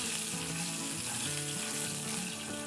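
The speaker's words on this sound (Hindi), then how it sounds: "और हमारे पास ये आधा कप पीनट है, हम इसको फ्राई कर लेंगे। इसको हम 30 सेकंड के लिए फ्राई कर लेंगे।" Half a cup of peanuts frying in oil makes a loud, dense, continuous sizzle right up close, with no talking.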